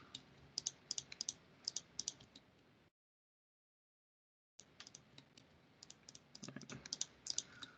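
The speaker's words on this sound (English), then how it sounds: "Lots of clicking today." Rapid computer clicks and keyboard-like taps at a desk while working in Blender, coming in irregular bursts, cutting to silence midway, then resuming with denser clicking near the end, close and fairly quiet.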